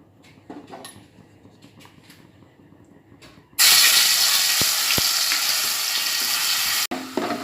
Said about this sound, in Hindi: हरे मसाले को उसका कच्चापन जाने तक मैं तेल में भूनूंगी